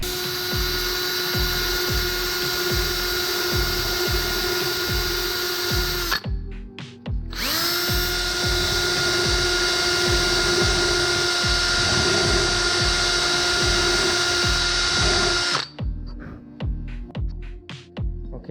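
A power drill elongates holes in a carbon fiber steering wheel hanger, whining loud and steady with a rhythmic throb. It runs in two long bursts separated by a brief pause, then winds down.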